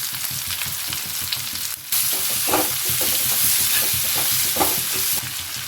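Chopped ginger, garlic and onions fry in a pan with a bright, continuous sizzle and repeated stirring clatters close by, with a brief quieter gap before the sizzle surges back.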